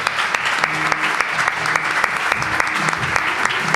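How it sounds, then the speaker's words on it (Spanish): A theatre audience applauds at a live science show in Madrid, with dense, steady clapping from a full house and a few louder individual claps standing out nearby. "Pues ahora es cuando os dais un aplauso a vosotros mismos, por favor."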